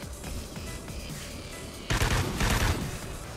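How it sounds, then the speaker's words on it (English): A burst-fire marksman rifle in Call of Duty Ghosts, a louder cluster of sharp reports arriving near the middle and repeating shortly after over a steady game backdrop. "This gun with burst fire is probably the most accurate of all the weapons."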